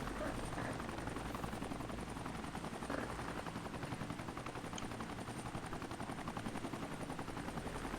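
A helicopter in the video game Entropia sends out a steady, dense rotor chop that runs without a break, loud and close throughout.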